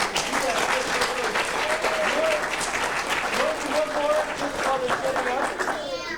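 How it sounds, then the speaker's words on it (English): Audience applause fills a ward talent show in 1995: a full room of steady, loud clapping lasting several seconds, with chatter and voices mingling underneath throughout. "Give everybody here a round of applause"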